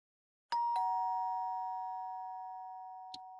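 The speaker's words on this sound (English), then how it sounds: "he hears his doorbell go off" A doorbell rings clearly at close range, two quick electronic chime tones sounding in succession with a long ringing decay, followed by a brief faint click near the end.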